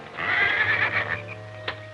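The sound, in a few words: horse neighing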